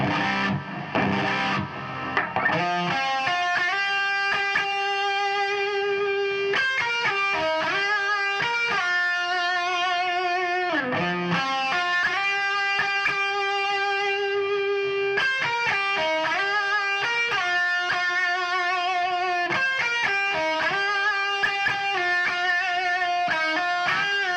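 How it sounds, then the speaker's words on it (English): An electric guitar plays sustained, ringing notes and chords drenched in reverb and some distortion, tones blurring together over a long continuous passage. "Oh, this is the reverb one."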